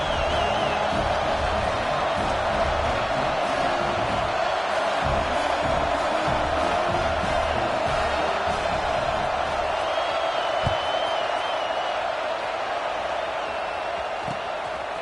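A stadium crowd at a football game keeps up a broad, steady roar of murmuring and scattered shouts throughout, easing slightly toward the end, with a commentator talking over it.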